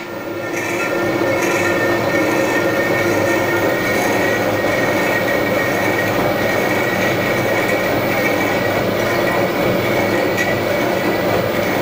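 A slitting saw taking a 1 mm cut in steel while making dividing head alignment keys gives a loud, continuous grinding whine with metallic ringing, steady throughout and without talk.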